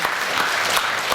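An audience applauds the participants at the 2016 awards ceremony of a Khakas ethnic song variety contest, a steady, close, full wash of clapping with no gaps.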